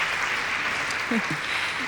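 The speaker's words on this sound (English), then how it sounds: "Let's give them a round of applause again." Applause from a luncheon audience at Botanica, Wichita: a steady, diffuse wash of clapping that holds evenly through the short span, with a few faint voices underneath.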